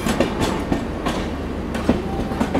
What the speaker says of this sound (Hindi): क्या शार्प टर्न है हवाई डबल डेकर एक्सप्रेस का, बहुत बेहतरीन टर्न डीजल लोकोमोटिव के साथ।